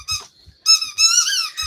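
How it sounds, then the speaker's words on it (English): A squeaky dog gives a run of high, thin squeals and whines up close, loud and broken into bursts with short gaps between them. "You are such a squeaky dog."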